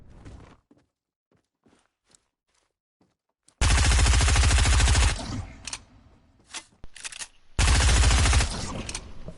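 Rapid automatic weapon fire in Fortnite, two long sustained bursts plus a few shorter ones, loud and close after a quiet stretch of faint footsteps and small clicks.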